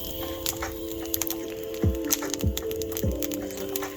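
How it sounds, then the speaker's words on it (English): A campfire burns at a snowy off-road forest campsite, giving off sharp wood crackles and pops at irregular intervals over a steady, noisy outdoor background. "Fire going."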